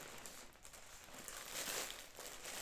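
A cellophane packaging bag holding a skirt ordered from AliExpress is handled and opened, giving a continuous close crinkling and rustling that swells louder midway, with no talking.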